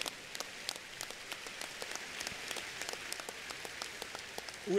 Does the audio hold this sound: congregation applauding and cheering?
yes